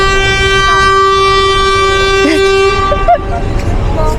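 A long, loud car horn blares continuously for a few seconds, then cuts off, with brief voices nearby.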